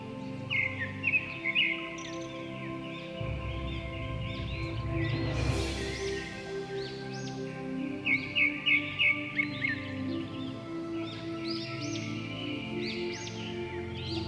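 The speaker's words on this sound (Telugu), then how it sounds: "పక్షుల కిలకిల రావాలతో" Birds chirp in bursts of bright, quick twittering along a forest footpath to a temple near Srisailam, fairly close, over a low steady hum, with a brief rustling whoosh in the middle.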